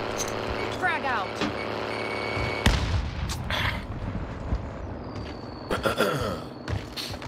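A frag grenade goes off in the Warzone video game: one loud, deep blast about midway, set against steady game noise and players talking.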